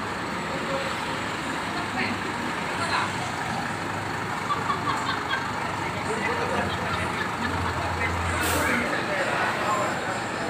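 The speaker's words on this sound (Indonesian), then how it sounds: "Ini mesinnya Hino." A Hino-engined new transport bus idles in a depot yard at night, a steady loud rumble and hum with a brief hiss of air near the end and faint voices in the background.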